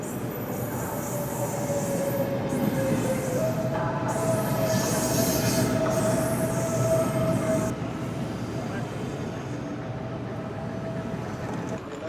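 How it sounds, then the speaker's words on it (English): A Portuguese passenger train rumbles steadily into a station, wheels squealing with a thin metallic whine over the continuous rolling noise, fairly close. "here comes our train."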